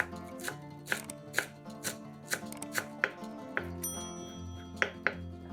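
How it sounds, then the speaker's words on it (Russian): A knife chops through a bunch of parsley on a board, about a dozen sharp, evenly spaced strokes with light clinks, close and clear with no talking. "Нарезаем пучок петрушки"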